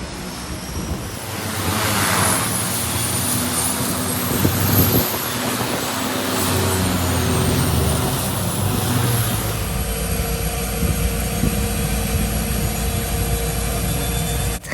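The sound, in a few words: aircraft engine noise during flight to Maldives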